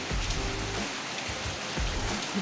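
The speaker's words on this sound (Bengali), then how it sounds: "বৃষ্টির দিন আজকের বাবা এত বৃষ্টি" Steady heavy rain hissing across the whole clip, a dense broadband wash with low thumps of drops striking a nearby surface.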